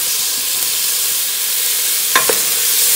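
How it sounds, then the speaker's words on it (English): Onions frying in a pan for split pea soup give off a steady, even sizzling hiss throughout, with two brief clinks of a utensil against the pan near the end. "So put your onions going in the pan till they're translucent"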